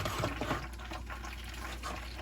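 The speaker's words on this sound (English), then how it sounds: "So I'm going to pour the tomatoes inside the water" Chopped tomatoes tip into a pot of water, giving a continuous close splashing and liquid pouring sound with soft gurgles throughout.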